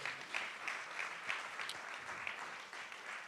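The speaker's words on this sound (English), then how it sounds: "give him a round of applause as well." Steady audience applause fills a black business gala at The Foundry in Cambridge, a dense, continuous patter of many hands at moderate loudness with small swells, no voices over it.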